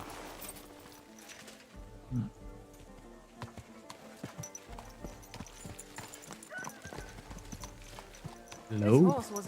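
In the video game Kingdom Come: Deliverance II, hooves clip-clop at an easy walking pace under low background music, ending with a loud horse whinny.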